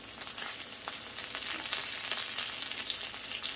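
Eggs, bacon and onions sizzle and crackle steadily on a Blackstone 22-inch tabletop griddle, a close, continuous frying hiss with scattered pops and no talking.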